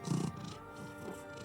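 A cat named Rory purrs softly on a stone platform inside a castle tower, a low rumbling burst near the start that fades into quieter continuous breathy purring.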